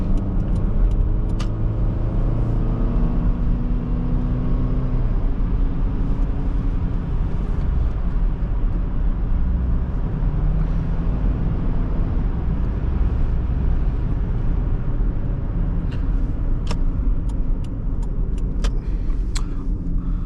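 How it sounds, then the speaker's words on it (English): Interior drone of a 1998 Toyota Camry LE cruising a backroad: a steady low engine and road rumble throughout, with faint tire noise and a few light rattles near the end. "let's do a little bit of backroad driving. Let's see how this Camry handles"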